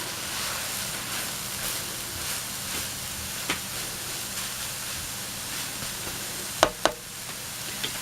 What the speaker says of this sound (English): It's been 3 minutes, so we're going to give this another good stir.